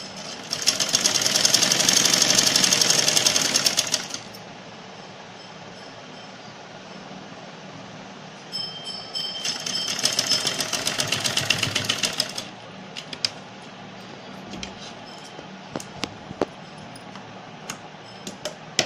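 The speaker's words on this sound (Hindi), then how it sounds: "इसी क्रीच पे हमें ये गला ऐसे रखना है और एक कच्ची सिलाई लगानी है।" Sewing machine running a basting stitch along the neckline crease of a short cut-sleeve kurti, in two steady bursts of a few seconds each, close and fairly loud, with a quiet pause and small clicks between.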